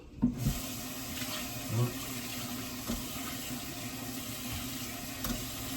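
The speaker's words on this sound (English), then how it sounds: "Just rinse this board off." Tap water runs steadily into a kitchen sink while a wooden cutting board used for cutting seasoning is rinsed under it, a continuous close wash with a few brief knocks and splashes.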